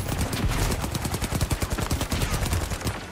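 Rapid gunfire from a weapon in The Finals Season 2 video game, a dense stream of sharp, loud shots in a steady automatic rhythm, close and continuous throughout.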